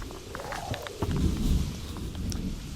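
A summer thunderstorm in a dramatized audiobook scene: deep rumbling thunder and a steady wash of rain and gusting wind, with a louder swell of low rumble partway through, continuous and close, no voices.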